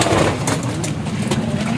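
Racing pigeons in a loft cooing, a steady low murmur with some bird calls over faint engine noise in the background.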